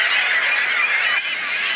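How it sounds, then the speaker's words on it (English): A common tern colony on a managed island in the Minnesota–Wisconsin area, a dense, loud chorus of overlapping harsh calls packed closely together, with no voices present. "managing this common tern colony for over 25 years"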